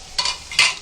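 Cumin seeds hit hot oil on a low flame after mustard seeds, giving two short close bursts of crackling sizzle for bhindi bharta.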